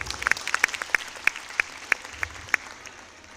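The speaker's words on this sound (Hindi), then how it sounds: "एक बार ताली बजाए अपने लिए।" Sparse clapping from a small audience at an Indian health-quality training talk: about a dozen distinct, sharp claps scattered irregularly over a few seconds, faint and fading out before the end.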